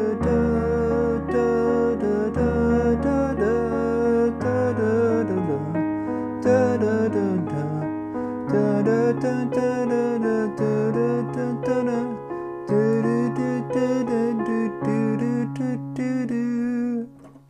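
Piano chords from the chorus of a song ring out loud and alone, each chord sustained for a couple of seconds before the next, with the final chord held long.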